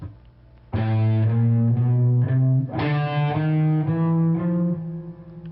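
Distorted electric guitar plays rapid sixteenth notes in even groups of four, with some pick strokes hit harder than others, loud and close, no voices.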